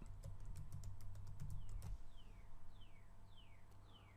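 Keys on a computer keyboard clatter in a quick burst for about two seconds, then stop and leave a faint background hum with a few soft chirps.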